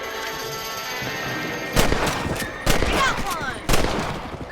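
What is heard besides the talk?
rifle shooting at rabbits in video game Red Dead Redemption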